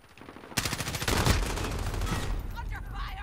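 Gunfire in the video game Modern Warfare: a sudden loud volley erupts after a quiet moment and continues as a sustained barrage, with a voice briefly heard near the end.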